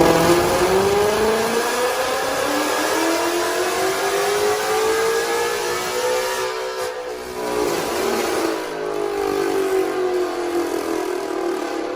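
A 2022 Ford Mustang GT with longtube headers on a dyno, a loud, sustained engine roar rising steadily in pitch through a long pull, dipping briefly and climbing again.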